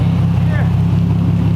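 A loud, close, steady deep exhaust drone from an Infiniti with a straight-pipe or resonated exhaust setup, a low even rumble with no clear rev rise.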